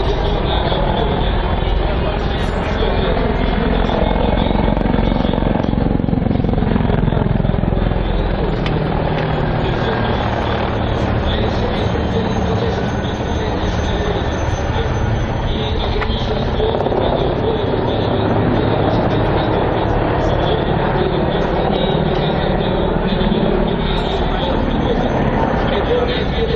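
Helicopters flying a display at the MAKS 2017 air show, a loud, steady rotor and turbine roar that fills the whole stretch, shifting slightly in tone, with a commentator's voice over the public address.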